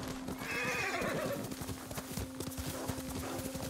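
A horse in the video game Ghost of Tsushima whinnies over the steady clip-clop of hooves, with a constant electronic hum underneath and a voice talking quietly in the background.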